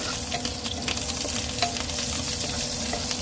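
Ginger and garlic sautéing in a hot pan of oil for chicken adobo, giving a steady, close sizzle and crackle with light stirring scrapes throughout.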